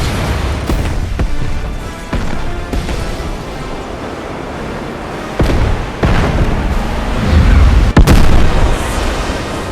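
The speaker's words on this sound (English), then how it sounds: "Look at that explosion." Explosions and booming blasts in the video game Final Fantasy VII Remake, a dense, loud roar of rumbling detonations with sharp cracks near 1.2, 5.4 and 8 seconds, carrying on without talk.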